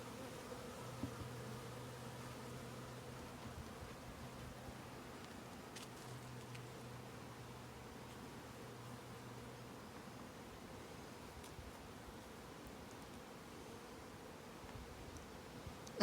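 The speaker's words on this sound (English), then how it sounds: "I want you to see this conglomeration of bees that is right" Honey bees swarm in a dense cluster on the lip of a container at a newly set-up hive, their steady, low droning hum continuing evenly throughout, with brief faint higher buzzes passing close by.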